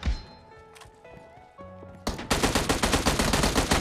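Rapid automatic gunfire from PUBG Mobile, an M16A4 in a team deathmatch, erupts loud and close after a quieter game-menu stretch of tones, continuing as a dense, evenly repeating burst of shots.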